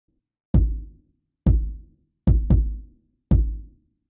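Five punchy electronic kick drum hits layering an 808 and a UK garage kick, with a sharp click attack and deep decaying body, playing alone in a loose rhythm with a quick double hit.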